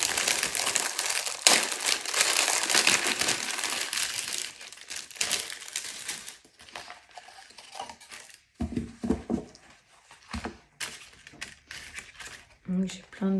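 Paper scraps and die cuts are handled and shuffled, giving busy crinkling and rustling that fades to sparser taps and rustles, with a voice talking over the later part.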